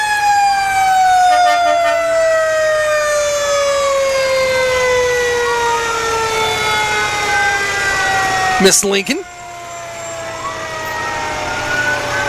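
A fire truck siren wails loudly and continuously with rising and falling tones, passing close by during a Toronto Christmas parade as engine 5 rolls through, with a brief sharp burst near the end and people talking over it.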